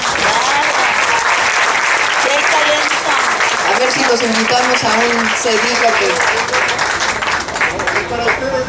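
Crowd applause at a public information assembly, loud and continuous through the whole stretch, with someone speaking over the clapping.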